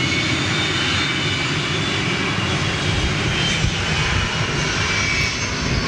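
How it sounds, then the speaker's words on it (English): A Boeing 757 powered by Rolls-Royce RB211 engines gives off a loud, sustained jet roar with a faint high whine riding on top, steady and close the whole time with no voices. "They are definitely Rolls-Royce RB211s on board that 757."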